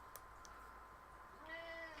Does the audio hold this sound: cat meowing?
yes